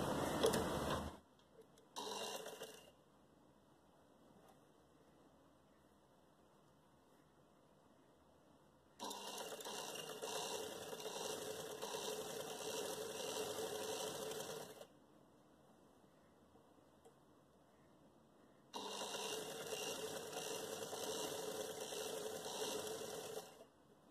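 Sewing machine stitching a gharara trouser, running in two long steady bursts of several seconds each with a quiet pause between them, plus a brief whir at the start.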